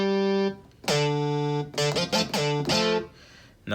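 A bright synth bass patch (MG Bass 2A) played in a high octave, a short melodic phrase with sustained notes, distorted, buzzy harmonics and brief gaps between phrases.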